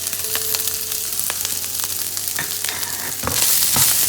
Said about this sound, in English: Saute the vegetables